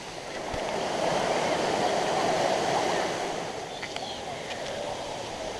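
Rushing water from a waterfall in Malaysia, a steady broad hiss that swells briefly in the middle and then settles, heard at moderate distance without talking.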